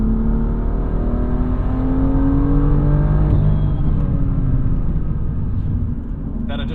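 A tuned 2024 Acura Integra Type S with a bigger turbo accelerating, a loud, close engine drone rising steadily in pitch with a rumbling low end, easing off near the end.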